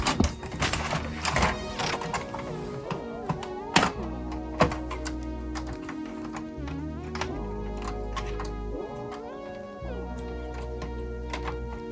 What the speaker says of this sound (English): Finally, put the paper back in the tray.